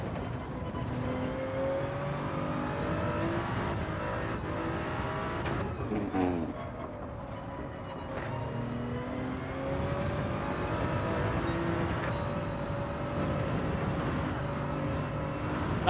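A Toyota Supra race car in Gran Turismo 7 revs continuously through a daily race, its engine note rising and falling with gear shifts and corners, steady and moderately loud with no talk over it.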